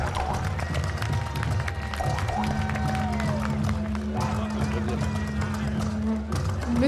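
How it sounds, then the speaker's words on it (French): Audience applause at the Miss Tahiti pageant crowning ceremony: a continuous wash of clapping and crowd noise, with music tones and voices running underneath. "sous vos applaudissements"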